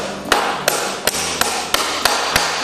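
A hammer drives a nail into a horse's front shoe during shoeing, landing seven sharp, evenly spaced metallic blows that ring out loud and close.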